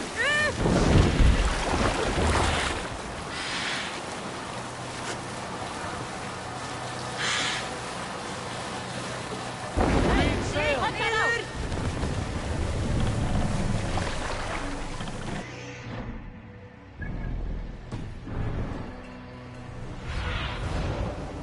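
Sailing ship at sea in the Assassin's Creed Valhalla video game: steady wash of water and wind against the hull, with louder surges of splashing at times and game voices and music bursts over it.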